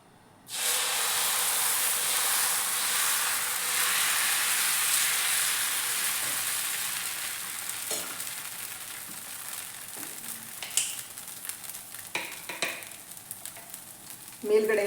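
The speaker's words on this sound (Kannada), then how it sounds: "ಇವಾಗ ನಾನು ದೋಸೆ ಹುಯ್ತೀನಿ." Ragi dosa batter hits a hot griddle with a loud, steady sizzle that starts abruptly, then slowly fades into crackling pops and hisses as the dosa cooks.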